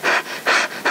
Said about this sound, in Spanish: el lobo llegó jadeante a casa de la abuelita